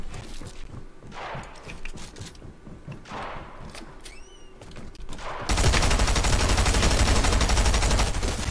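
SMG fire in Fortnite: scattered gunshots and footsteps, then a sustained, loud burst of rapid automatic fire filling the last three seconds.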